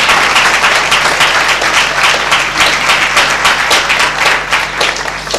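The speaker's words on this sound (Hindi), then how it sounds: "एक जोरदार ताली देते हैं।" Loud, sustained applause from a large church congregation at a Good Friday service, dense and steady clapping that continues throughout without pause.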